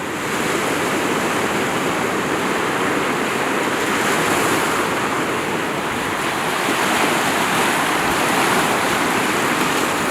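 Steady, loud rush of clear sea waves rolling in at Hwajinpo Beach on the East Sea in Goseong, a continuous broadband wash of surf with light wind, no breaks or talk.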